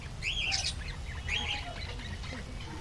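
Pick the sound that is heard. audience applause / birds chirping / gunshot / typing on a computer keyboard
birds chirping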